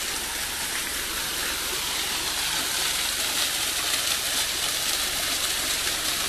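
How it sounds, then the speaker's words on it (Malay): A hillside waterfall in a forest reserve beside a mountain road pours down from above, giving a steady, dense rushing wash that stays even and fairly close throughout, with no voices over it. "kawasan air terjun ni. Air dari bukit lah, dari atas"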